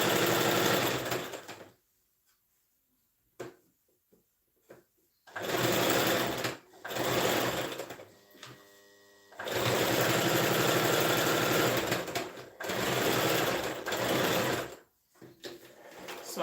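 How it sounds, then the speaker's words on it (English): A sewing machine stitches fabric for a boy's shirt in loud, steady whirring bursts, stopping and restarting several times with brief silent gaps between runs. "So I'll just sew this down this way."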